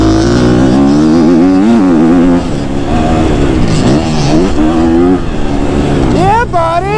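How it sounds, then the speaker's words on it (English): A KTM 250 SXF dirt bike screams at very high revs in third gear, its engine note rising and falling loud and close throughout, with a sharper climbing rev near the end. "it's pulling the front wheel up in third gear at super high RPM"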